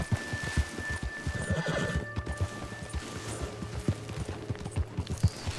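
Steady clip-clopping hooves of a galloping horse in Red Dead Redemption 2 with a whinny partway through, fairly close and continuous, no talking.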